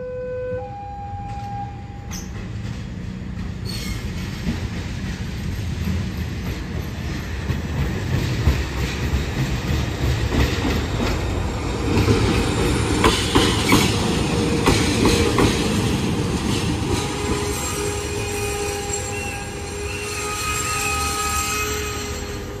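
A Penataran passenger train from Blitar arrives at a station in Surabaya, rolling steadily through, rumbling with clattering wheels and occasional high squeals and tones, loud and continuous throughout.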